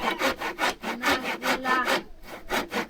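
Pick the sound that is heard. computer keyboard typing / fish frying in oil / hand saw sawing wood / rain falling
hand saw sawing wood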